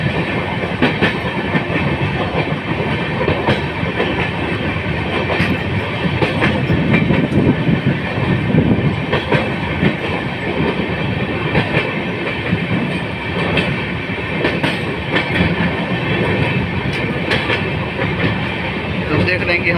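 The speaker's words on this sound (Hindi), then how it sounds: "तो देखिए हमारी ट्रेन दीघा हॉल्ट को स्किप कर रही है।" A Janhit Express passenger train runs through Digha Halt without stopping, its steady rumble and rhythmic clickety-clack of wheels over rail joints loud and continuous throughout, heard from on board.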